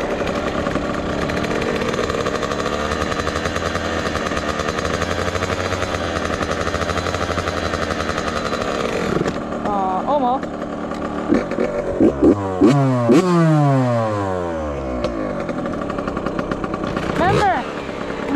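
Yamaha YZ65 youth dirt bike engine buzzing steadily at high revs, then dropping with pitch swings as the throttle blips and the bike passes, loud and nearby, with voices talking at times over it.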